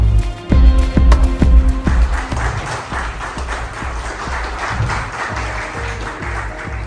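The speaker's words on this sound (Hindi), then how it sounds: "तो श्रीमती सुदीप्ति सिंह जी के लिए जोरदार तालियां होनी चाहिए।" An audience at an anniversary community event applauds, with some heavy claps or thumps up close at first, followed by steady, moderately loud clapping that continues to the end.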